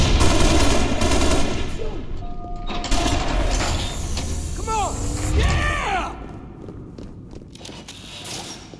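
Rapid gunfire from the Halo Reach video game rattles through a loud battle scene, with bursts layered over rumbling explosions and effects, game voices speaking over the shooting.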